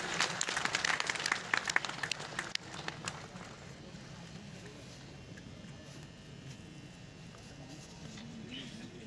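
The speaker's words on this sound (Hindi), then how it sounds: "तालियों में कोई कमी नहीं रहनी चाहिए।" An audience applauding to welcome guests at a public service fair and workshop event, a burst of clapping for the first couple of seconds that quickly thins out into faint room noise.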